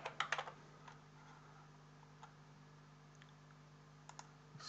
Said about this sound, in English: So I'll just type a few words in.